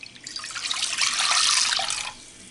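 Water is poured into a cooking pot in a steady stream. The rushing splash swells briefly and then stops, close and clear, with no talk over it.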